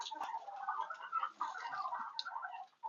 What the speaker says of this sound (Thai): อันนี้สิเป็นเป็ดพ่อแม่พันธุ์นะครับเด้อใช่ครับเป็ดพ่อแม่พันธุ์